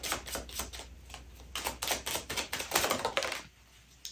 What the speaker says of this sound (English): Anyway, let's shuffle and see what message comes up.